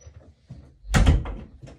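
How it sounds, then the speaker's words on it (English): An indoor door swings shut with a single solid thud and brief rattle, preceded by a few faint shuffling sounds in a quiet room. "Close the door."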